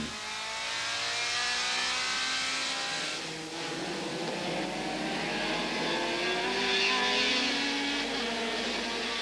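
A red 4.7-litre Ford Mustang race car, over 1300 kg, roars past an Austin Cooper in a historic race, its loud engine note rising and falling steadily with a brief dip midway.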